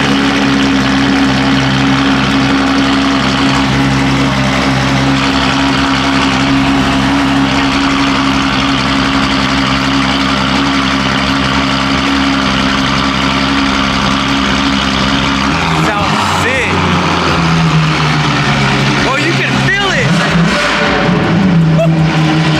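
A McLaren Senna GTR runs close by with a loud, constant engine drone for most of twenty seconds, then sharp revs and shifting pitches break in near the end.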